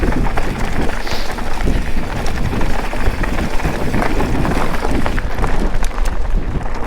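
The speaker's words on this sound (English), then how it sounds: "And it is windy through this pass." Strong wind roars through a mountain pass on a descent from Hazard's Peak, buffeting steadily and loud throughout, with rough ground rumble beneath and no talk.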